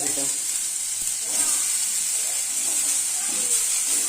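Kohlrabi sizzles steadily in a hot pan after potatoes, a constant close frying hiss with faint scrapes of stirring.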